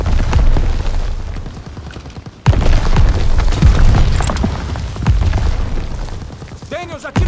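Ammunition boxes blowing up during a Call of Duty WWII battle: a heavy boom lands partway through, followed by further blasts and crackling debris over dense, continuous combat noise.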